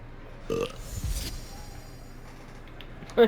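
A character in the video game Hogwarts Legacy lets out a burp, with a short burst near the start, another rumbling belch after it, and a brief loud sound at the very end over quiet game ambience.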